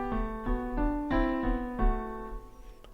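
Piano plays four sustained chords in a row in a canon exercise, each struck cleanly and left ringing before the next, close and fairly soft, ending with a fading decay.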